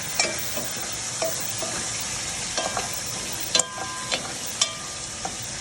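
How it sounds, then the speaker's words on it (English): A spoon stirs gumbo in a pot over a hot fire, scraping and clacking against the sides in irregular knocks above a constant bright sizzle of frying. "now, I'm going to stir this up a little bit"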